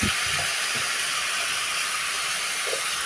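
Rice hits browned vermicelli in a hot pot and sets off a steady, loud hiss that runs unbroken throughout, with a few faint knocks underneath.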